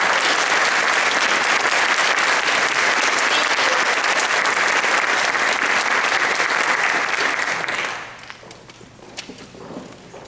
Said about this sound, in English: If you could give each and every one of them a round of applause